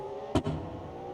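Steady drone of a Porsche GT2 RS flat-six engine in a video game, with a sharp burst around the middle, a quick rev blip before the tone settles back into a continuous hum.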